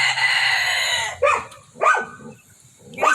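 A rooster crows once, long and close, among a flock of chickens that includes a fluffy frizzle, followed by a few short, sharp clucking calls.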